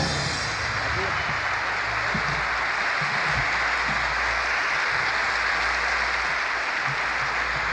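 A live audience at a 1966 Dean Martin and Frank Sinatra party by the bay applauds in a sustained, even wash of clapping that carries steadily throughout.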